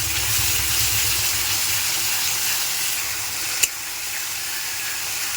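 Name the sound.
spice paste being sautéed with water in a pan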